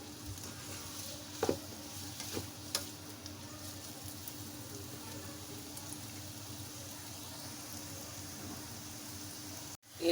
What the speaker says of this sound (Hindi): अब इनको भी लो टू मीडियम फ्लेम पे हम थोड़ा सा इसको सोटे करेंगे